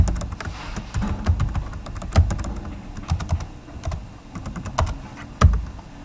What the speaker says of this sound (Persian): next پسوردشان تایپ میکنیم